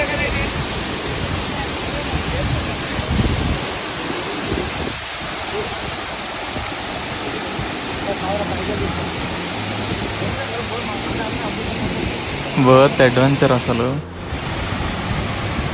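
Pittalaborra Tarabu waterfall near Vizag sends up a steady, dense rush of falling water that holds throughout, with people talking over it.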